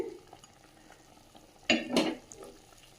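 A quiet kitchen scene where pork is stirred in a hot wok with no oil, one brief loud scrape and sizzle standing out near the end.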